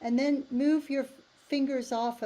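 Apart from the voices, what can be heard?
None of the usual background noises is heard.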